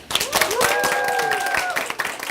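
A classroom applauds a guest speaker giving a traffic safety presentation, scattered close hand claps running through a short stretch while a voice carries a sustained tone over them.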